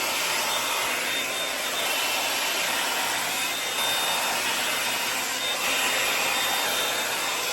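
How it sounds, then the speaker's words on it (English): A Wavytalk 5-in-1 hot air brush blow dryer runs continuously with a steady, even whoosh of air and a faint high whine, unbroken throughout. "the Wavytalk 5-in-1 blow dryer"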